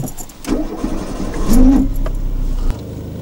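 Renault Super 5 Campus engine cranking and catching, with a rough, noisy rise as it fires, then settling into an uneven running rumble before dropping off abruptly.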